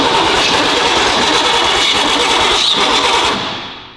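A Ford Ranger engine with low compression cranks steadily and loudly at close range for several seconds, then the roar tapers off at the end.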